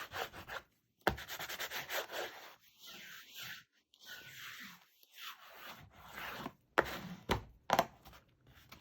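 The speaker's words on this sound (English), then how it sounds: "come in here and burnish this down a little better." A tool rubs paper down onto chipboard for a mini album in repeated short scraping strokes, close and fairly quiet, with brief pauses between bursts.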